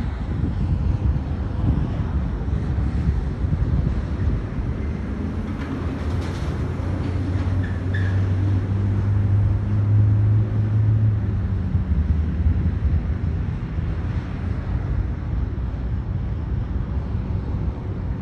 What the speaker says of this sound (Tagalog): Dito naman maarangkada itong jet ski.